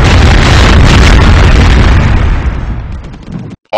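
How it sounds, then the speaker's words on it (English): An airstrike explosion in the mobile war game Enemy Strike 2 lands with a loud, heavy boom and roaring rumble that fills the mix, then thins out and cuts off abruptly near the end. "Call in an airstrike with this"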